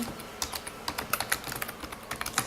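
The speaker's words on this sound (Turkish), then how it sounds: "hemen bir Furkan Öze yazayım ben" Quick, irregular clicking of computer keys being typed on a keyboard during an online game, close and fairly quiet, with no talking over it.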